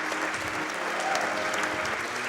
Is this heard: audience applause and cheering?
yes